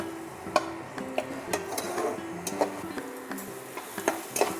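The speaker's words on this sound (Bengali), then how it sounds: "তো এটাকে হালকা ফ্লেমে রেখে কষিয়ে নেব।" A paste of onion, garlic and spices frying gently over a low flame, with a soft steady sizzle punctuated by repeated light scrapes and taps of a stirring spoon against the pan.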